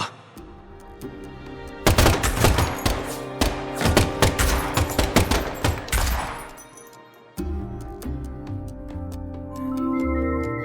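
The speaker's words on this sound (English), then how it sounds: "the last gunshot we heard sounded ominous, Zack." Gunfire from the video game Deadly Premonition 2 erupts in a dense, rapid volley of loud sharp shots for several seconds over a sustained tonal music bed, then the shooting stops and the music carries on alone.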